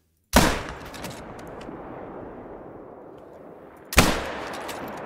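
Two loud rifle shots ring out in the hunting video game theHunter: Call of the Wild, each a sharp crack followed by a long, rolling echo that slowly fades.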